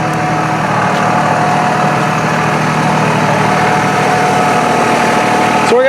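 A Workmaster 25 compact tractor engine runs steadily near the barn, a loud continuous diesel drone with a low vibrating idle that holds even throughout, with no talk.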